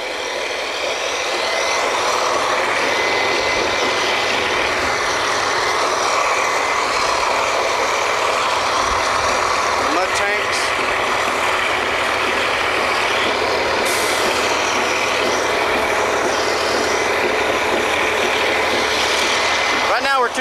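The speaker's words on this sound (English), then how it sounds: "Here's one of the mud pumps and the backup pump." Mud pumps running on a drilling rig, a loud continuous mechanical roar with a steady low drone, close and unbroken for about twenty seconds, with a voice speaking over it.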